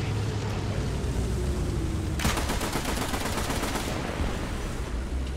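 An M60 machine gun in a video game fires one sustained, rapid burst lasting about two seconds. It rings out clearly over steady background ambience, with no voices.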